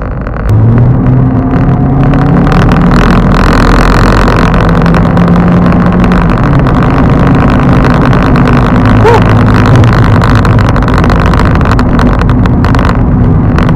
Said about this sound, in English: There is literally just a little half-second of turbo lag, and then it kicks in, and it does not give up.